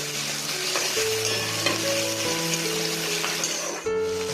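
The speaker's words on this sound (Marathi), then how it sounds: "आता बारीक चिरलेला कांदा टाकते।" Finely chopped onion hits hot tempering oil with cumin, mustard seeds, green chili and curry leaves, producing a loud, continuous crackling sizzle that dips briefly near the end.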